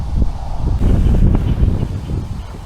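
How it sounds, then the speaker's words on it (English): Gusty wind buffets the microphone outdoors during a bait-fishing session, a steady low roar with rough swells that runs through the whole clip, with no talking. "I told Sonny the wind would probably die down later in the day, but it's getting worse"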